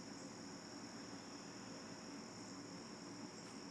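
A distant jet aircraft passing overhead in the evening, a faint, steady broadband roar with a constant high whine, unbroken throughout and with no voices.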